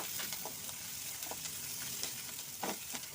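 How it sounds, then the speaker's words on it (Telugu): Onions, curry leaves and green chilies fry in hot oil for vangi bath, a steady close sizzle with occasional scraping stirs and small pops throughout, no voices. "ఉల్లిపాయలు పొడుగు పొడుగా ఉల్లిపాయలు మంచిగా వెళ్దాం కరేపాకు కొద్దిగా పచ్చిమిరపకాయలు ఒక మూడు మంచిగా ఫ్రై చేద్దాం"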